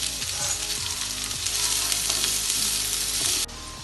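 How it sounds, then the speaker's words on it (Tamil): Onions sizzling in hot oil with whole spices for Bombay chicken biryani, a steady loud broadband fry with faint stirring clinks, the hiss dropping sharply near the end. "இந்த வெங்காயம் நல்லா வதங்கட்டும்."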